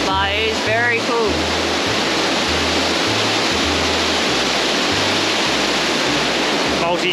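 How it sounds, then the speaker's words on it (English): A multi-tiered waterfall with a big drop-off roars loudly and continuously up close, a dense rushing wash, while voices talk briefly at the start and end. "Multi-tiered waterfall with a big drop off at the end."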